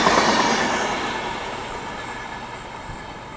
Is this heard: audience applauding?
no